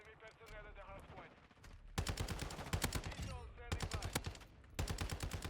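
Rapid bursts of ISO Hemlock rifle gunfire in a first-person shooter match, several sharp automatic strings separated by short pauses, with faint talk under the shots.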